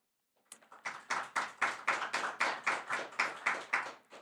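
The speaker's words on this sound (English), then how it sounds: "let's welcome him with a warm applause" Applause at a live-streamed talk, heard as a quiet, even run of distinct claps, roughly a dozen or more in a regular rhythm, from just a few hands.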